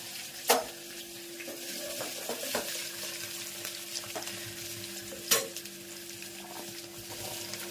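Steady crackling sizzle of spices in hot oil with stirring scrapes, plus two sharp clinks of a utensil against the pan.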